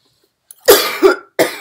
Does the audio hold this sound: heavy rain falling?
no